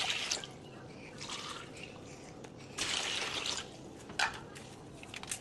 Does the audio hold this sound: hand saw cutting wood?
no